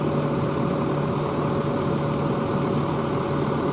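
A PO Haryanto bus with a Tentrem Avante H7 body idles nearby, giving a steady, loud, low diesel rumble with a constant hum and no variation or speech.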